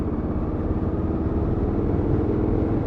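A 2020 Indian Scout Bobber Twenty cruising in top gear at about 40 mph and 1800 RPM, a steady low engine drone with continuous rumble and wind, no voices.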